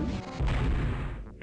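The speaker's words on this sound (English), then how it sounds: "They got Meson blasters, I believe, on their tail turret." A single heavy meson blaster shot from an enemy ship's tail turret in the Privateer space combat game, a loud booming blast with a rumbling tail that cuts off abruptly.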